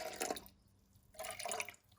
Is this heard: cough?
no